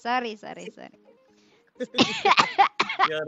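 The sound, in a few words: cough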